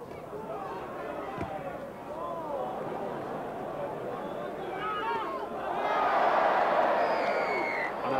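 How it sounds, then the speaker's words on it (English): A stadium crowd at a 1988 Great Britain versus Rest of the World rugby league match roars, swelling louder toward the end beneath a commentator talking. "I think the roar of the crowd says all."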